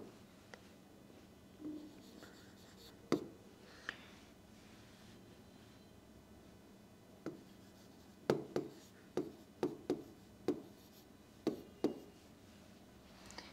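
Chalk or marker strokes on a board come in short separate scratches, sparse at first and then in a quicker run of clustered strokes, faint in a quiet room.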